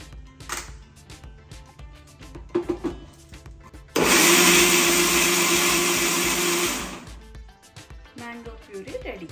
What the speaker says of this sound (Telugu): కొంచెం మిల్క్ మేడ్ వేసి మిక్సీ పట్టుకోవాలి.